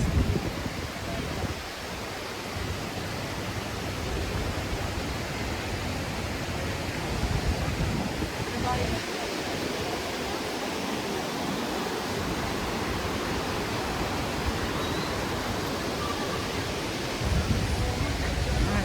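Saitabat waterfall in Bursa roars as a steady, broadband rush of falling water, loud and continuous throughout with no pauses, filling the whole stretch like dense white noise.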